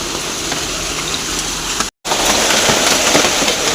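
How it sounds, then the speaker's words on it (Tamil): Hailstorm in Bangalore pouring down, heard as dense, steady hiss and patter of ice and rain on surfaces, loud and close, broken by a brief cut of silence midway. "ஐஸ் மழை பெய்யுது"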